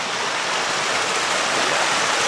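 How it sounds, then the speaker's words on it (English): Little waterfalls tumbling through a creek make a loud, steady, close rushing roar of water that never lets up, with no voices over it. "There are a lot of little waterfalls over this way too."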